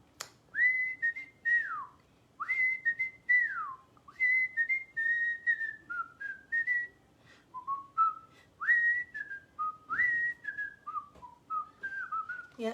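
A person whistles a melodic tune, clear and close, in short phrases of sliding and held notes separated by brief breaths.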